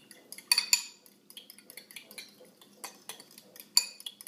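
A utensil stirs egg whites in a bowl, producing a quick irregular series of light clinks and taps of metal against the bowl, with soft swishing between the hits, close and fairly quiet.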